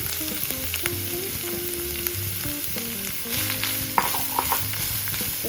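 Finely chopped onions sizzle and fry in a pan for spicy beef unnakaya, with a steady hiss broken by repeated scraping stirs close by and no talk.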